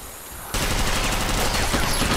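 Rapid automatic gunfire in the sci-fi shooter Interstellar Marines, a dense loud burst of overlapping shots erupting after a brief quieter lead-in and continuing without pause.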